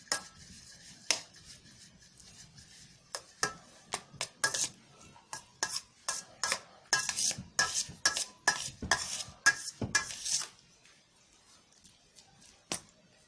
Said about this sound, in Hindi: बल्कि इसको अच्छे तरीके से मिक्स करें कि चावल जो है सब जगह अंडे में मिक्स हो जाए